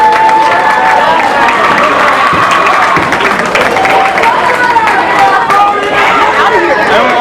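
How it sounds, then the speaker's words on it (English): Steady clapping from a crowd at a high school band banquet, mixed with lively chatter and voices throughout. "give another round of applause for our rookies"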